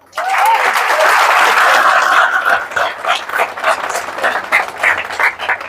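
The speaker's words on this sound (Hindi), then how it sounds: "ध्यान देना, ताली बजाना एक बार।" Audience applause in a motivational talk on hard work, a burst of steady clapping that swells at once, then breaks into scattered, uneven claps that fade as it goes on.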